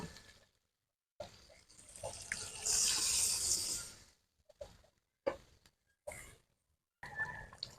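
Water pours into a pan of simmering tomato chicken curry in a village-style kitchen, a few separate splashing bursts and one longer hissing pour, close and fairly quiet with gaps of silence between.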